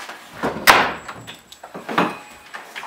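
A door is pushed shut to isolate a room during a firefighter search, giving one sharp close slam followed by several lighter knocks and scuffs.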